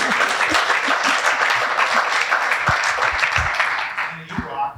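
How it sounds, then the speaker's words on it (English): An audience at an academy showcase event in Washington, D.C. bursts into steady, dense applause that fills the room, mixed with a few cheers, then thins and fades near the end. "we want to applaud for you too"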